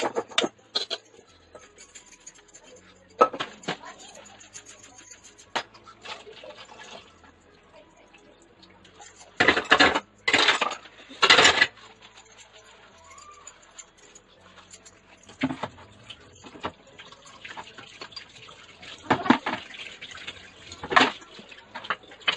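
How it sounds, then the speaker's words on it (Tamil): Dishes being washed in a home kitchen sink under a running tap, with steady faint trickling broken by louder gushes and clatters of utensils, no talk. "இப்ப நான் பாத்திரம் வாஷ் பண்ண போறேன்."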